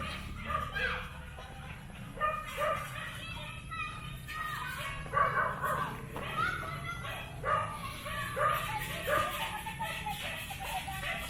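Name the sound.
dogs barking next door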